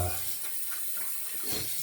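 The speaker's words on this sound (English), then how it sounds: "wash our hands" A tap runs steadily into a sink during handwashing, a close, continuous splashing hiss with no voices.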